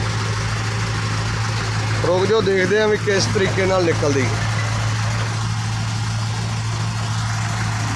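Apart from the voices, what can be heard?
tractor and JCB engines pulling stuck truck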